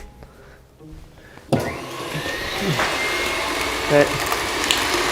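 An electric mixer whirs to life after a quiet moment and churns steadily, creaming butter for white buttercream, a loud continuous motor drone with rattling mechanical texture; a person says a brief word partway through.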